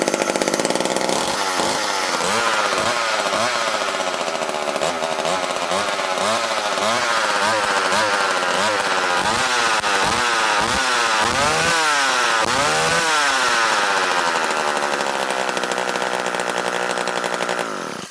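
A flea-market McCulloch Power Mac 6 Automatic chainsaw, likely running on very old fuel, buzzes loudly and steadily at close range for the whole stretch, its two-stroke engine revving up and down in repeated surges before settling back to idle.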